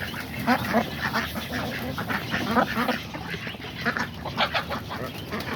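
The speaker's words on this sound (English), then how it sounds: "You gotta watch out, ducks." Hungry ducks quack loudly and repeatedly in a backyard aviary, with close, uneven bursts of calls and a person speaking among them.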